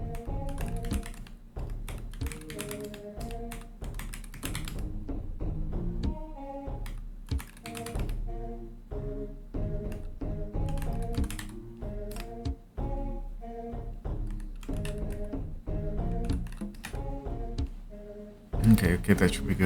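Typing on a computer keyboard, with rapid clattering keystrokes in irregular bursts, close and fairly quiet. Retro game tones and a speaking voice sound over the typing.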